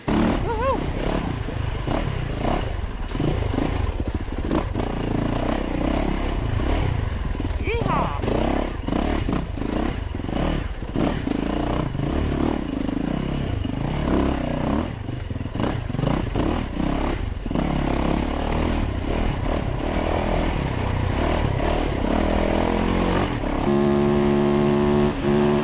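A Yamaha YZ450FX dirt bike is ridden with its engine roaring and revving loudly and continuously, with clattering mixed in and a voice talking over it.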